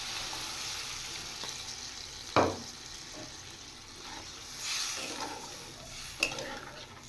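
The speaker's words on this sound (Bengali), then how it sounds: "আর একটু জল দিয়ে দেবো।" Water goes into a hot cooking pan with fish curry underway, bringing a sharp splash and hiss followed by softer sizzling and occasional utensil clinks against the pan.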